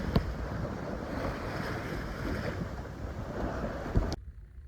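A sailboat moving at six knots at sea gives a continuous rush of water and wind buffeting close to the microphone, with a couple of knocks, then cuts off abruptly near the end.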